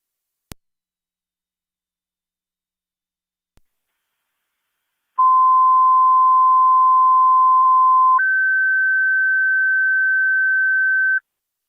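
A fire dispatch radio sends paging alert tones over a scanner: a brief click, then a loud steady tone held for about three seconds that steps up to a higher steady tone for another three seconds, with no voices.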